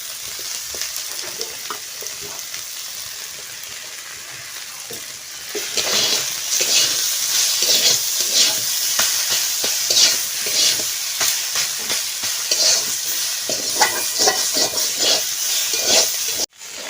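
Deboned fried fish added to a pan with mustard oil for a taro leaf dish: a quieter opening, then a louder steady sizzle with repeated spatula stirring and scraping strokes, close, ending abruptly.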